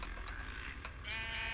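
Sheep bleating in a video game, a single wavering animal call standing out over a dense, steady bed of game sound and music, near and fairly loud, with a brief sharper click partway through.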